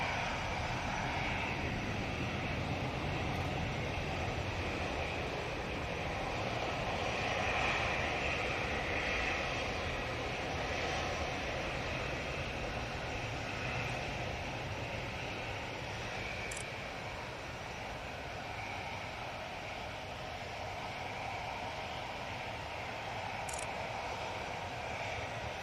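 An Emirates A380 airliner in new livery departs in a long, steady engine roar that stays broad and sustained throughout and holds fairly distant, with no voices over it.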